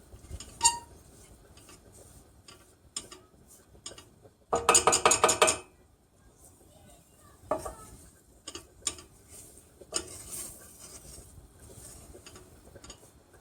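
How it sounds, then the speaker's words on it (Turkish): Flour is dry-roasted in a pan over low heat, stirred with a utensil that scrapes and clinks against the metal in scattered bursts, with one brief louder rattling clatter partway through and no voices. "Şöyle gördüğünüz gibi kokusu çıkana kadar unumuzu kavuruyoruz öncelikle"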